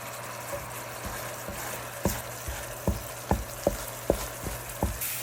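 Butter goes into a syrup-based sauce boiling over the highest heat for nut gangjeong, giving a soft bubbling sizzle broken by a regular series of sharp pops or taps, close and fairly quiet.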